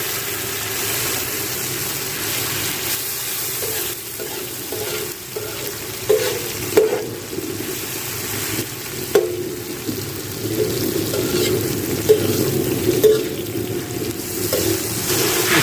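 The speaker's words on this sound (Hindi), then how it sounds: "थोड़ा सा भून लेंगे लहसुन अदरक को।" Garlic, ginger and tomato frying in mustard oil in a pan, a continuous loud sizzle with repeated scraping stirs and occasional clinks throughout.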